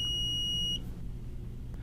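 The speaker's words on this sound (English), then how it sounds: "the nav will beep three times, again to alert you that you're about to lose data" A QS NavPlus navigation unit in a truck gives a shrill electronic beep, one sustained tone under a second long, followed by low cab rumble.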